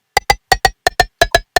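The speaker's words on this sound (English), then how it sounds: "And this is a frying pan sound." Struck frying pan sampled as a layer for neurobass sound design, sounding as nine short, bright metallic hits in uneven pairs, close and loud with quick decay, alone without talk.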